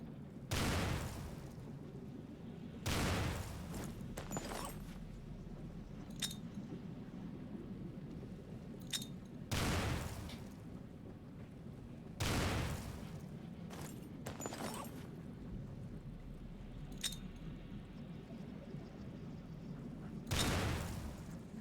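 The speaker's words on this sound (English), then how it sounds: "So this will be 24 after I throw these 2." Grenades thrown one after another in the video game Stalker, exploding in a series of loud, broad booms spaced a few seconds apart over a steady rumbling background, with no talking.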